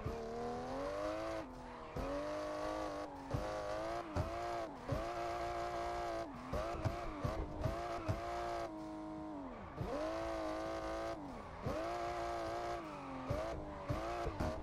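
A car in a racing game drifting through highway traffic, engine revving hard and dropping sharply with repeated gear shifts and bursts of throttle, loud and close, alone without talk.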